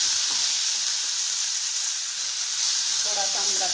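Spring onions frying in a hot pan for veg manchurian give a loud, steady, continuous sizzle up close, with no talking.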